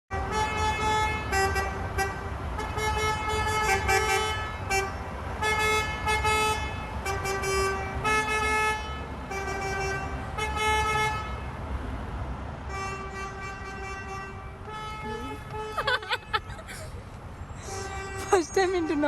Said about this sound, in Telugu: everybody was like really frustrated and they started Hawking